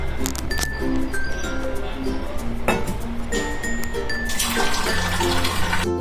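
Water poured into cornflour for Karachi halwa, a short splashing pour near the end amid light clinks of bowls, with tonal background music playing throughout.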